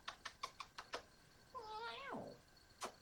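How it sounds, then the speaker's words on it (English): A 17-year-old cat gives one drawn-out, wavering meow, close and fairly quiet, after a run of soft rhythmic clicks like typing or tapping, with another click near the end. "Hey, you guys, it's my mama cat."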